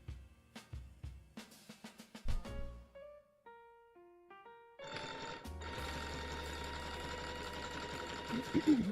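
A home sewing machine stitches raffia grass, its motor starting and stopping in short bursts before settling into a steady, loud run with a dense mechanical whir. Brief melodic beeps from a setting change sound in between.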